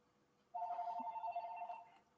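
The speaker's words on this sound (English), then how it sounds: "Damn phone." A telephone rings once in a single steady electronic trill lasting over a second, fairly near and clear against a quiet room.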